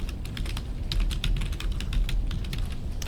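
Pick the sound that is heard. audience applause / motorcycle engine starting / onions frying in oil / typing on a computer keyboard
typing on a computer keyboard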